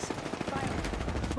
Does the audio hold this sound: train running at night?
no